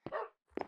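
A dog in the Minecraft video game barks twice in quick succession, two short, faint yaps separated by a brief pause.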